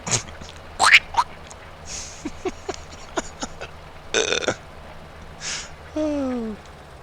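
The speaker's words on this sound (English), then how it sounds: "Donald Duck." A comic Donald Duck-style cartoon voice, a series of raspy, quacking squawks and gargled bursts in uneven spurts with short pauses between them, loud and close.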